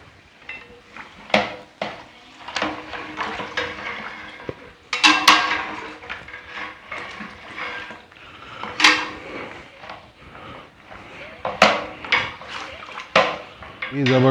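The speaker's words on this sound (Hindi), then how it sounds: "मसाला डालने के बाद हम इसको अच्छे से कर रहे हैं मिक्स" Masala being stirred through tender trotters in a large cooking pot, with repeated metallic clanks and scrapes of a spoon against the pot in an irregular rhythm, fairly close.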